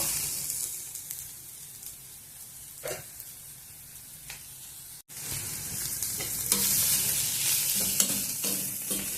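Bitter gourd and onion pieces frying in a pan give a steady sizzle with occasional stirring scrapes. After a brief cut the sizzle returns louder and brighter, and no one speaks.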